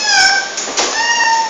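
A voice imitates a cat's meow in one drawn-out, wavering call that rises and falls, close and fairly loud, with no other talk.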